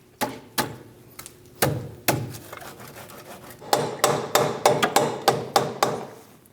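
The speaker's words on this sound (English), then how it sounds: "use a soft face hammer to help you install the control arm" Sharp soft-face hammer taps on metal, driving a front upper control arm into place on a 2001-2006 Chevrolet Silverado, a few spaced strikes at first, then a quicker run of repeated blows, close and fairly loud.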